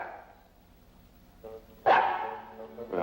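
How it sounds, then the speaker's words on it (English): A small dog barks at a bank counter in a 1940s drama scene, a quieter yelp first, then a sharper, louder bark, and another starting at the end. "there's your dog anyhow. You better call him."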